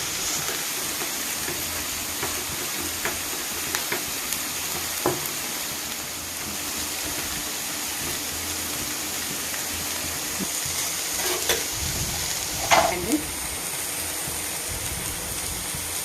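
Brinjal (eggplant) pieces frying in a pan give a steady, low sizzle throughout, with occasional faint clicks of a spoon and a slightly louder stir near the end.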